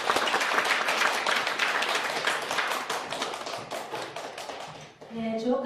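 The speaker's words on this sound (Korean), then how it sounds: "주옥 같은 좋은 말씀을 해주신 디에고 강사님께 거다란 박수 다시 한번 전해드립니다" Applause from a prayer-meeting congregation for a guest speaker: dense, steady clapping from many hands filling the room for about five seconds, then fading out as a voice begins to speak.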